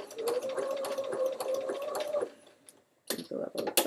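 A quilting machine stitches fabric in a rapid, even whirring patter, then stops abruptly before short bursts resume, close and fairly loud.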